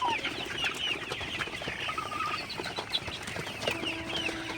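Golden super hybrid chickens cluck softly while eating at night, with scattered short clucks and chirps over a rustling background and a few light wing flaps, fairly quiet and close.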